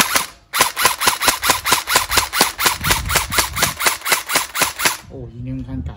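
A Honey Badger gel blaster fed from an M4A1 magazine fires hard gel balls in semi-auto, about twenty sharp, evenly spaced cracks in quick succession, loud and close, before a short voice at the end.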